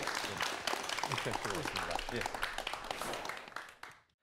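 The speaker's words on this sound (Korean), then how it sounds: "여러분 감사의 박수 부탁드립니다" Studio audience applauding after two guests are thanked on a Korean TV talk program about virtual reality, a steady dense patter of clapping with voices over it, fading out at the end.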